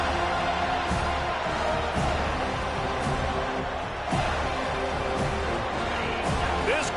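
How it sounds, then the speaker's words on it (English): A dense stadium crowd in an American football video game roars and cheers steadily throughout, a continuous wash of noise with occasional swells. "This crowd bringing the energy and noise early."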